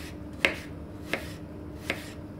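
A knife finely slices apples by hand on a cutting board, giving three sharp, isolated chops spaced out under a quiet room background.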